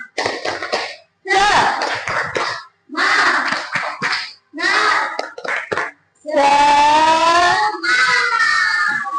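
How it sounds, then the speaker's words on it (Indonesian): A classroom group led by a teacher claps and chants a rhythmic 'tepuk semangat' routine. Bursts of hand claps alternate with short pauses, then end in sustained sung voices of children and adults. "Tepuk semangat"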